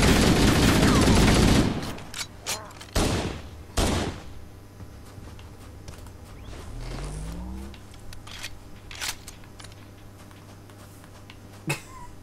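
Gunfire in Halo: The Master Chief Collection, a loud dense burst of shots followed by several sharp single shots and a whining effect, with game sounds continuing between the bursts.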